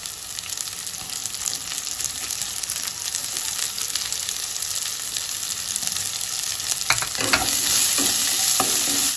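Black cumin seeds sizzling in hot oil, a dense steady frying hiss close up with stirring strokes, growing a little louder toward the end with a few sharper scrapes.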